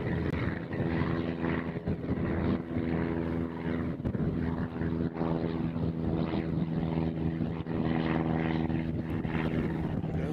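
An airliner at Nashville International Airport gives off a steady, rumbling jet roar that holds for several seconds, heard from a distance outdoors.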